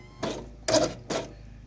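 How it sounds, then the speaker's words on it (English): Hydrolocked motorcycle engine turned over by its electric starter in three short, evenly spaced mechanical bursts that fail to catch, each separated by silence. "Push the clutch in, turn your key, and crank it."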